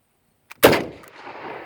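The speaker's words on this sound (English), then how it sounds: "So I'm going to give it a shot down range here and see what happens." A single sharp gunshot from a Carcano 6.5x52 carbine rifle fired downrange outdoors, loud and close, preceded by a faint click and followed by a long fading echo.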